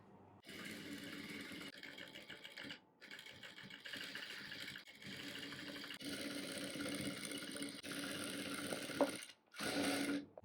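A sewing machine stitches a puff sleeve onto a blouse. It runs in bursts of close mechanical whirring, stopping briefly between runs, with no speech.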